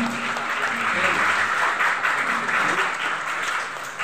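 Sustained applause rises from an audience at a school graduation ceremony, thick and even throughout, with faint voices underneath.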